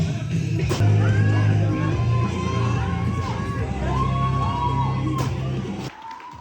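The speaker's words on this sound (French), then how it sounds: "Allez, on les applaudit bien fort." A large crowd cheers, whoops and shouts for the winning team on the podium at a CrossFit competition final, a loud continuous roar with voices rising and falling over about six seconds before cutting off abruptly.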